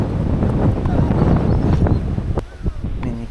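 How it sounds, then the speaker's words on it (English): Strong wind buffets the microphone on an outdoor tennis court during a qualifying match at a 30K event in Swan Hill, Australia, a continuous low rumbling roar with a few faint sharp knocks as it eases near the end. "you can see how windy it is"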